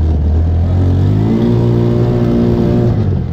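A Tomberlin Crossfire 150cc go-kart engine runs loud and close, holding a steady droning note that climbs slightly in pitch as it revs, with no voices.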